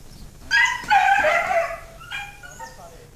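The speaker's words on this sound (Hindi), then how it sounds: "आपने अभी देखा होगा यहाँ पे कुत्ते गाय को खा रहे हैं" Dogs attacking cows at a village cow shelter in Uttar Pradesh, giving high, tonal yelps and whines in a close burst that trails into fainter whimpering, with possible voices in the background.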